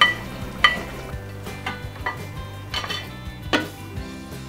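Braised chicken with fermented bean paste and potatoes is stirred in a pan. Close, intermittent scrapes and clinks of a utensil against the pan sound over a soft simmering sizzle, with no talking.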